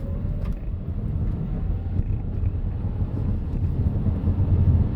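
A BYD Atto 3 electric car accelerates from 50 km/h, heard from inside as a steady low road and tyre rumble with wind noise that builds slightly toward the end, with no talking.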